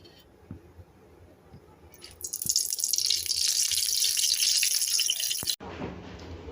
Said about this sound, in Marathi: तर ह्यामध्ये मी आता थोडं तेल टाकणार आहे.